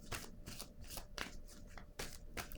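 A deck of tarot cards is shuffled in quick repeated riffles, a soft rhythmic papery fluttering close by and fairly quiet.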